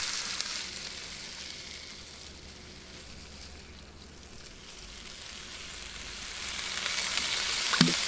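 Potatoes set to boil in a pot in the Cooking Simulator video game make a continuous bubbling, hissing wash that dips slightly midway and swells again toward the end, steady and without speech.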